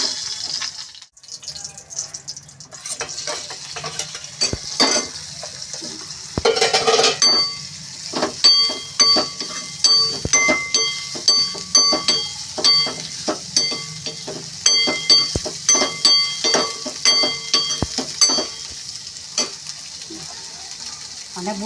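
Mustard seeds sizzle and crackle in hot oil for sambharo, a chili relish, with a steady hiss and repeated bursts of popping. A utensil clinks against the pan as it stirs, and a voice is faintly heard.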